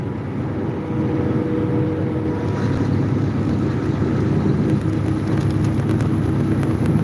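A new 2023 Peterbilt truck cruising on a Missouri road, giving a steady low engine drone with road and wind noise that swells slightly after the first couple of seconds and stays continuous, with no speech.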